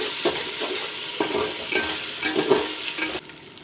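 Ginger garlic paste frying with onion in a pan for a mutton pulao, a steady sizzle broken by scraping stirs every half second or so, close and fairly loud, with no voices.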